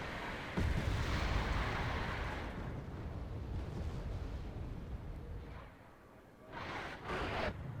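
Artillery fire in the video game Wargame: NATO Attacks, a loud sustained barrage of booms and rumbling blasts with a sharp heavy hit near the start, easing off before a couple of brighter bursts near the end.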